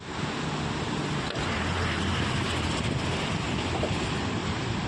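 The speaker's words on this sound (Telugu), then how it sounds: "శ్రీశైలం డ్యామ్ కాడ గేట్లను ఇట్లా ఏడాదికి 2 సార్లు లేపి కిందికి నీళ్లు ఇడిచిపెట్టుడు" Water released from the opened gates of the Srisailam dam roars in a steady, loud, unbroken rush for the whole stretch, mixed with wind.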